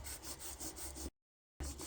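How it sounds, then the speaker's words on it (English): Soft, steady strokes of gentle hand sanding on a shower hose rasp back and forth in an even rhythm, broken by a brief silence before resuming. "you end up sanding too much away too quickly"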